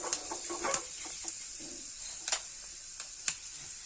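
Mustard seeds hitting hot oil for a Kerala-style shallot sambar: a soft, steady sizzle with a few sharp, scattered pops rising out of it, close and fairly quiet.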